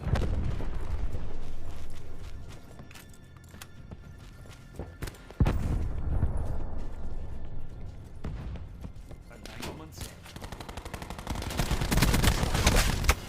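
Rampart-17 assault rifle fire in the video game Black Ops 4, loud rapid bursts crackling over a busy battlefield mix of explosions and effects, with game announcer callouts in between.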